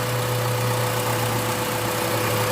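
A car engine idles steadily and close by, a continuous low hum with a constant tone running through it, with no speech and no change in pace.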